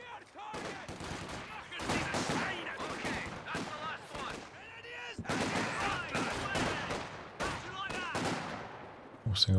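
Machine gun fire and explosions in a Company of Heroes 2 two-versus-two battle, with dense overlapping rattling bursts and booms continuing throughout at moderate loudness in a busy battlefield mix.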